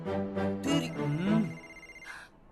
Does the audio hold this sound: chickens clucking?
no